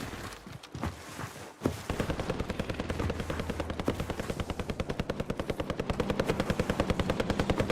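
Rapid automatic gunfire from an aircraft in the Warzone Pacific battle royale on the Caldera map, a steady rattling burst running several seconds after a sharp onset, loud and continuous with a low engine drone beneath.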